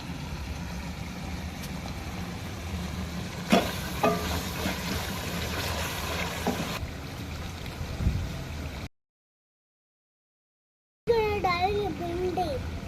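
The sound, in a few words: masala being fried for chicken bhindi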